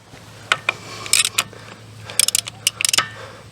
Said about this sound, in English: I'm going to go ahead and take out the drain plug. You're going to use a 22mm socket.